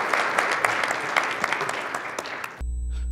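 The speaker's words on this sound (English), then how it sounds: "big round of applause for you all." Applause fills a bridge maintenance training session, a steady crowd clapping with a few sharp individual claps, cutting off abruptly to a tonal hum near the end.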